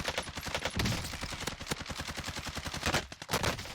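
Rapid automatic gunfire in the video game Warzone, dense rattling bursts of shots in quick succession throughout, loud and close with no talking.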